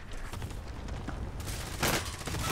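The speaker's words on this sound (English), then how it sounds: "Stop oh god, cluster strike!" Cluster strike explosions in a shooter video game, a rattling run of rapid blasts building to a louder burst near the end, moderately distant and with no talk over it.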